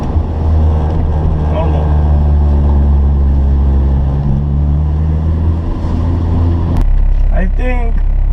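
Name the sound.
7th Gen Honda Accord driving on highway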